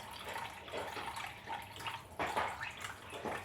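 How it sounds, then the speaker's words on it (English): Warm water pours softly into flour for pizza dough, a quiet, steady trickle with small splashes and drips, close by and with no talking. "So now pour in the water,"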